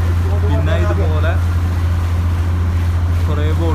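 A small motorboat speeds across the backwater at Fort Kochi, a loud steady engine drone with wind rush beneath occasional voices talking nearby.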